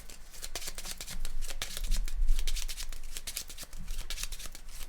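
Playing cards are shuffled by hand at a Keyforge tournament table, a steady run of crisp riffling flicks lasting several seconds at close range, with no talk over it.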